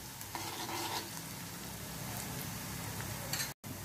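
Onion frying in a pan for a Maharashtrian dry fish and brinjal dish, a steady close sizzle with soft scraping strokes of stirring throughout, no talking.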